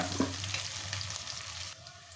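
Thinly sliced onions and green chillies frying in a pan for pearl millet khichdi, a steady close sizzle with a spoon stirring briefly at the start, no talk.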